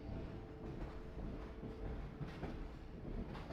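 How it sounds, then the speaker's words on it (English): A train arrives at a station in the Half-Life 2 video game, a steady low rumble of rolling rail cars with faint clattering and metallic scrapes, moderately loud and continuous. "I guess I have to wait for the train."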